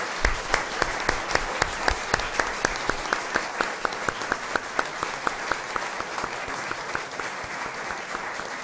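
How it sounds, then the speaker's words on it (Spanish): A church congregation at a Eucharist mass applauds. Steady, rhythmic group clapping with sharp regular beats holds at an even level throughout. "Saludemos a Dios con un gran aplauso porque nos ha traído esta noche"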